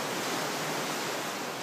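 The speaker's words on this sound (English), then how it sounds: "Ocean." Steady, broadband wash of ocean surf at an abandoned seaside resort on Koh Tao, a constant rushing hiss with no distinct breaks.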